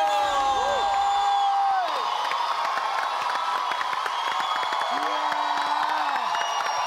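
A studio audience at a comedy show cheers and claps for an arriving guest. Whoops and clapping sit under sustained musical tones, fairly loud and steady across the clip.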